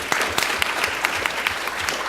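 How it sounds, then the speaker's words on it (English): Conference audience at a clinical leadership summit giving a short burst of steady applause, moderately loud and close, with no talking over it. "Clap for Hattie"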